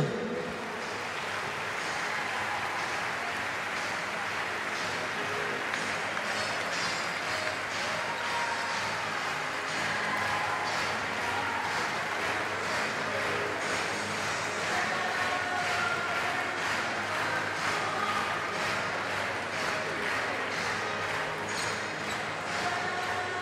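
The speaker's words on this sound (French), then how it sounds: "Les rouges et les bleus, merci de les applaudir." A crowd applauds the players at an evening Cesta Punta Grand Slam final. The clapping is a dense, steady wash that holds at an even level throughout, heard from a distance.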